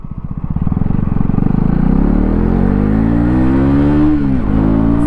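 A Husqvarna Vitpilen 250 motorcycle pulls away hard in first gear, its single-cylinder engine note rising steadily in pitch as revs climb, loud and close, before easing off near the end.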